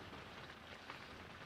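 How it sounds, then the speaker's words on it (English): Very light rain falls on a tent on the ice during winter camping, a faint, steady patter with no talking. "It's like very, very light rain. It's not like pouring down on us."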